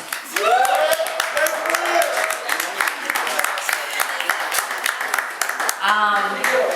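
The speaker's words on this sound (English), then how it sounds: "please applaud yourselves" An audience claps and cheers at a poetry album release and listening party, steady applause filling the room with excited voices calling out over it.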